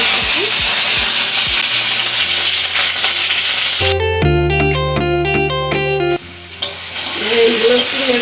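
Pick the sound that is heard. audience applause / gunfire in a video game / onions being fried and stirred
onions being fried and stirred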